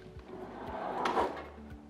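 A heavy-duty kitchen island drawer on heavy-duty runners slides shut, a smooth close rolling glide building to a soft muted thud, fairly quiet and with no talk.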